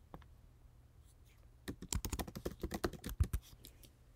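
Rapid keystrokes as code is typed on a computer keyboard, a quick burst of close clicks starting partway through after a near-silent opening, fairly loud and alone.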